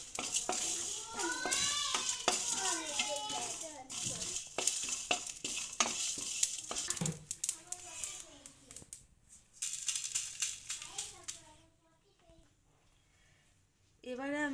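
Dried chilli, black pepper, cumin and coriander are lightly dry-fried and stirred in a pan, with rattling and scraping under a faint sizzle while a person talks throughout, then a short quiet stretch near the end.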